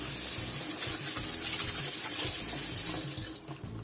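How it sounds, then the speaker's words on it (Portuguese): Tap water runs in a strong, steady stream into a sink while leafy vegetables are washed leaf by leaf, a close, continuous rushing that only briefly shifts near the end. "lavar folha por folha, em água corrente"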